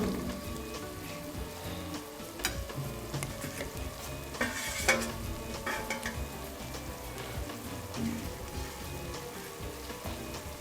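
Onions frying in oil in a pan while cooking chicken kofta curry. A quiet, steady sizzle with occasional clinks and stirring scrapes runs throughout, with no voice.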